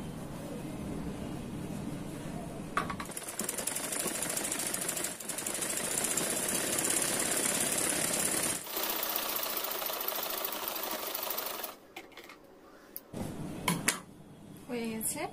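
A sewing machine stitches a half-inch seam on ladies' cigarette pants. It makes a continuous close mechanical whir for long stretches, broken by brief pauses and fabric handling, with someone talking over it at times.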